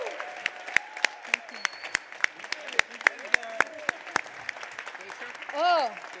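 An audience gives a round of applause at an award presentation, with dense clapping throughout and voices talking over it.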